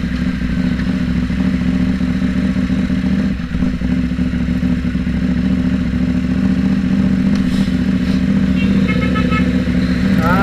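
A KTM 790 Duke motorcycle runs with a loud, continuous engine drone while riding, with a faint knock partway through and a brief horn-like tone near the end.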